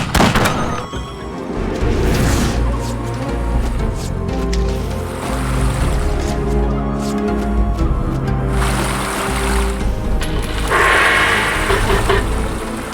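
Gunfire and explosions from attacking units in a video game, heavy layered booms and rumbling blasts with tonal battle effects, loud and dense throughout, with a brighter burst near the end.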